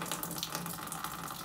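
Liquid runs off steadily from a vessel during home beer brewing, a continuous close trickling and splashing like a running tap, heard alone without talk.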